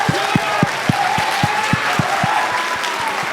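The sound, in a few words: classroom applause voting for a poem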